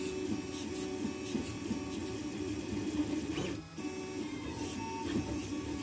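A 3D printer works through a large support part, giving a steady, fairly quiet whirr of stepper motors with rapid tonal buzzing and shifting pitch, plus a brief pause near the middle.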